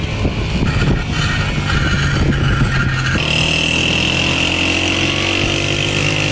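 Motorcycle engine runs loud and close with a steady drone, shifting pitch partway through as if throttle changes, continuous with no voices.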